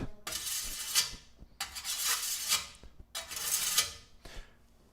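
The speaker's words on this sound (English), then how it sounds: "This is how you sharpen a scythe." Three rhythmic rasping strokes of a sharpening tool scraping along a scythe blade, each stroke a bright gritty swipe with short pauses between, close and fairly quiet with no talk.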